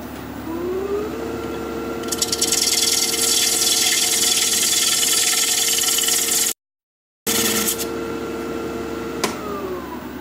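A woodturning tool is held against a grinder to sharpen it, giving a steady loud grinding rasp. It pauses for a moment and then runs on, with no talk over it.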